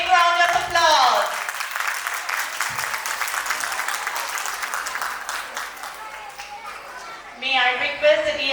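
An audience applauds a teachers' performance at a Mother's Day school event, a steady wash of clapping filling the middle stretch, with a speaker's voice heard just before and again as it trails off.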